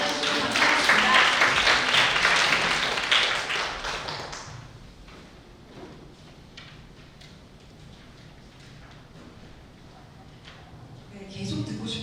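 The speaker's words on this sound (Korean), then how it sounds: "박수로 맞아주시면 감사하겠습니다" An audience at a parents' school lecture applauds to welcome a speaker: dense clapping for about four seconds, then fading to scattered taps before swelling briefly again.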